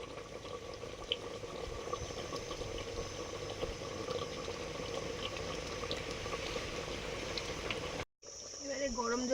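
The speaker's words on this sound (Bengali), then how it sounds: "এবারে গরম জল দিয়ে দিচ্ছি।" Hot water pours steadily into a cooking pot of meat with raw mango, a continuous bubbling gush that runs for about eight seconds, then breaks off briefly before other kitchen sounds resume.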